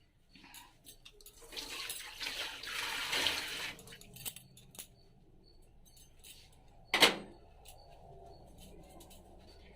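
Water is poured into a cooking pot in a home kitchen, a faint splashing stream building over a few seconds and then tapering, with a brief sharp clatter afterward and soft room noise.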